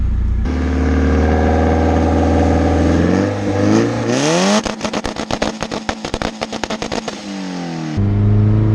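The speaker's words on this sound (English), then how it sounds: "The two-step sounds clean, doesn't it?" A built single-cam car engine idles loudly, revs up, then rattles through a rapid machine-gun stutter of pops and bangs on two-step launch control before settling back to idle.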